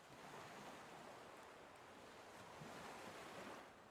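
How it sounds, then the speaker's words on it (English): Soft, continuous waves lap along a coastline, a steady wash of surf swelling gently and easing, with a breath of wind over the shore and no voices. "This lapping of waves on a coastline."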